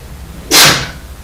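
A single sharp sneeze bursts out close by during a Board of Supervisors meeting, loud and breathy, lasting about half a second before fading into quiet room tone.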